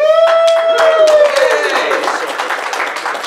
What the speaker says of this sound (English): Please give a round of applause for Nick Mac and